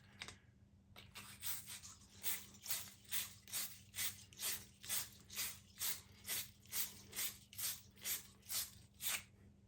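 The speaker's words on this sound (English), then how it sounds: "Gonna clean that out with the reamer." A reamer cleans out the bore of a new copper water valve fitting with about fifteen rhythmic, rasping ratchet-like scrapes, steady and close, with no talking.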